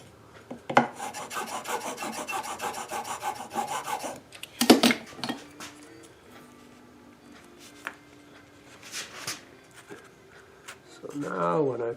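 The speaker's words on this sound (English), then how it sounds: "In this case, it's easier to file them to that depth" Wooden lattice braces on a guitar soundboard are filed down to depth with a rasping rhythm of close strokes, heavy at first and then more intermittent, with speech in between.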